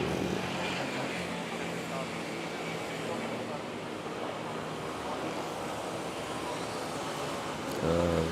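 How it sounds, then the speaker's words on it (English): A jet airliner takes off from a busy Manila airport, its engines a steady, loud broadband roar that holds throughout, with a low rumble swelling near the end and a voice speaking briefly under it. "Nice liftoff nonetheless."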